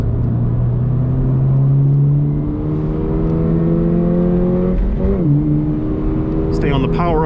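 A 2022 Toyota GR 86 Premium revs on a race track, its engine note climbing and falling through gear changes with rev-matched blips, heard from inside the car under steady road rumble.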